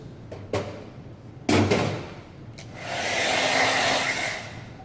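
Hair dryer blowing heat onto hair along a braided hairline, a steady broadband whoosh rising in the second half after a few short thumps and handling knocks near the start.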